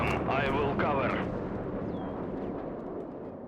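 Soviet artillery guns fire in a World War real-time strategy game as a heavy, continuous rumbling roar of booms. Brief voices are heard at the start, then the dense barrage carries on alone.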